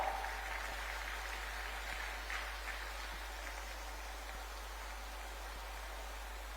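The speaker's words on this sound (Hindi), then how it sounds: "तालियां हो।" Steady applause from an outdoor-sized crowd at a Jharkhand government scheme ceremony, a distant, hissing patter of many hands over a constant low electrical hum, with faint voices briefly surfacing.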